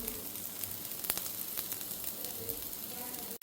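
Finely chopped tomato lands in a hot pan for egg appe and sizzles steadily and softly, with a few faint clinks. Nobody speaks.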